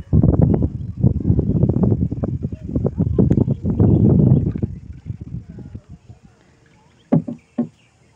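A wooden rowboat is rowed on a river, with oars dipping and knocking in a loose, steady rhythm of splashes up close. The strokes thin out, then end with two or three sharp knocks against the hull.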